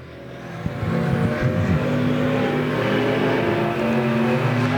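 Dirt-track race cars roar loudly and continuously around the oval at Golden Triangle Raceway Park during a Spring Havoc event, engines droning steadily as the field runs close by.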